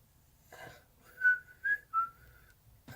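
Someone whistles a short jingle from McDonald's, three bright rising notes after a brief soft lead-in, close and fairly quiet against a faint background.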